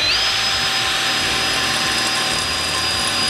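A YATO brushless cordless drill drilling with a 4.5 mm bit gives a steady, loud whirring motor whine with a high-pitched tone, running continuously without pause.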